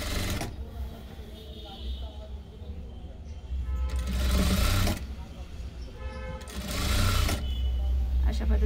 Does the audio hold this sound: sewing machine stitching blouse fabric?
yes